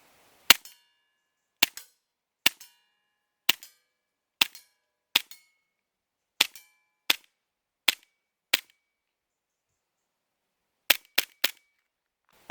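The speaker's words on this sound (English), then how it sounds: "let's crack on and shoot some steel" A Cybergun FN Five-Seven airsoft pistol fires at steel plates: eleven sharp cracks, each with a quick metallic ping, come at a steady rhythm, then a pause and three more rapid shots. No talking.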